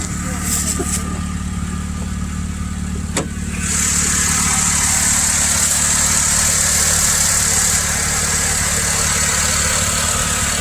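A cheap used Honda Civic engine idling steadily nearby, a continuous low drone with a brief click, and a brighter hiss rising over it partway through.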